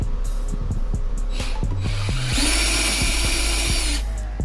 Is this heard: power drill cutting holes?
yes